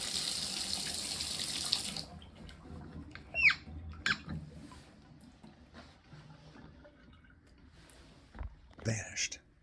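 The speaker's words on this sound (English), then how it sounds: "I turn the faucet on and then shut it off to see if the drip" A bathtub faucet is opened briefly, giving a short burst of running water at the start that then stops, followed by faint squeaks, handle clicks and quiet bathroom noises nearby.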